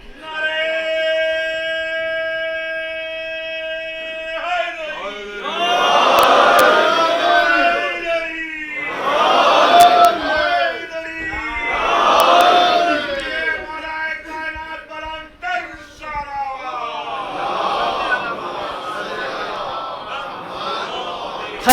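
A large congregation at a majlis mourning Imam Ali shouts the Naara-e-Haidari slogan. A lone voice leads, then the crowd answers with three loud roaring responses, and a fainter fourth follows.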